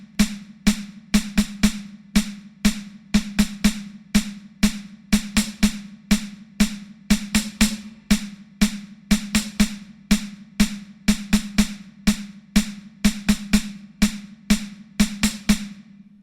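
A slow snare drum fill, two quavers followed by a quaver and two semiquavers, repeated over and over in a steady, loud, close pattern with no voices.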